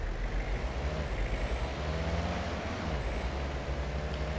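Car engine in the Way of the Hunter hunting game, a steady low drone with a faint high whine that holds steady and then dips, heard alone without talk.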